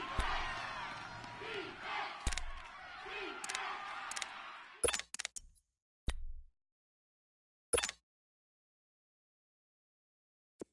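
A stadium crowd at Arrowhead roars in a PS4 football video game, a loud sustained cheer with shouts that cuts off abruptly, followed by a few short game sound effects and then silence.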